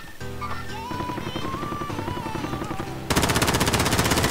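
Akimbo pistols fire in a video game: a loud, dense, rapid burst of shots cuts in abruptly after a stretch of tonal game sound and runs to the end without a break.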